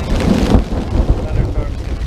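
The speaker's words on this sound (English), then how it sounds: "the thunderstorms can come in with vengeance. And this one did." A thunderstorm with rain and hail rolls in over a campsite close to the mountains, heard from inside an ultralight tipi tent shelter: steady loud rain and wind buffeting the microphone, with low rumbling thunder underneath for about two seconds.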